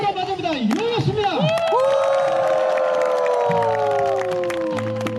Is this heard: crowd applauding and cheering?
yes